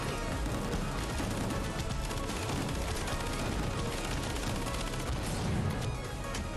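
A chain gun in the video game Gungrave G.O.R.E fires without a break, a dense and loud stream of shots that stays steady from start to finish over a noisy game mix.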